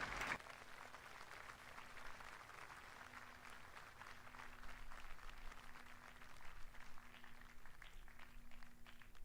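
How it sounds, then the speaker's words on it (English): An audience applauds Golden A alumni awardees at an Army-Navy Academy homecoming and alumni weekend ceremony, with steady, sustained clapping from a crowd that runs through the whole clip at a fairly distant, even level. "Let's give all our Golden A awardees a round of applause for their accomplishments."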